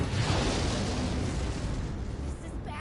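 A main cannon fires during a Sand Land video game battle, a heavy booming blast that rolls out and slowly fades, loud and close, with a little game noise mixed in.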